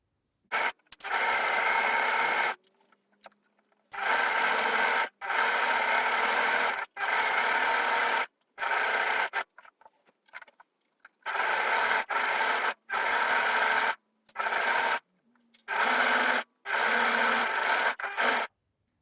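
Sewing machine running a stretch stitch along a T-shirt hem, in several bursts of steady fast mechanical whirring separated by short pauses, close and alone.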